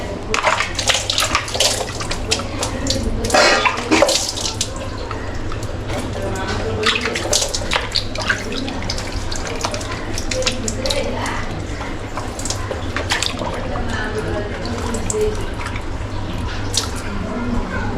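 Water running continuously while freshly cut fish is rinsed and cleaned by hand for a village-style fried fish dish, with drips and splashes over a steady flow and a voice talking now and then.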